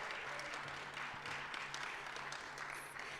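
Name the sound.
audience applause for a TEDx speaker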